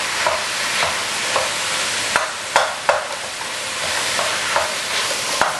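Ground beef sizzles steadily in hot oil while a spatula stirs and scrapes the pan now and then, with sharp clicks over a constant bright frying hiss and no talk.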